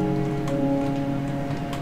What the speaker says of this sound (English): Is it really raining again?